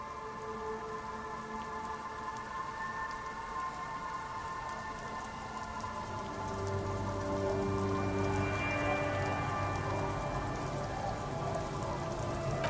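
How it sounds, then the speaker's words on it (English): Rain falls in the video game Disco Elysium, a steady soft hiss of drops that swells slightly partway through, under low, sustained ambient music tones. "Its branches are dripping with rain and snow."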